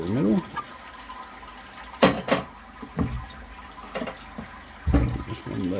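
Wort drains from a lifted grain basket on a home brewing setup, a steady watery trickle and splash running under a man's speech, with a couple of louder clunks and pours between his words.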